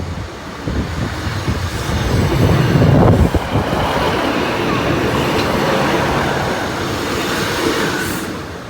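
A train rumbles past close by at a level crossing on Lincoln High Street, a steady broad roar that swells and holds, with faint wind buffeting and a high squeal near the end.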